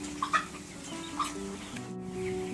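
Free-range turkeys crowded in a poultry house holding about 4,000 birds give scattered clucks and short gobbling calls over a steady low droning hum, with no one speaking.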